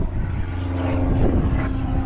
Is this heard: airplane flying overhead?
yes